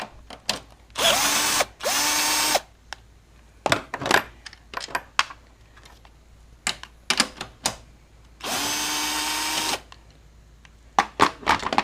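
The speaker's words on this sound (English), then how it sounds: "you'll want to undo these 14mm strut bolts up top, which I have also already loosened up, and we'll take those off." A powered ratchet spins off 14mm strut bolts at the top of a Honda Civic's suspension. Two sustained motor whirs, each a second or so long, are separated by metallic clinks and taps, close and loud, with no voices.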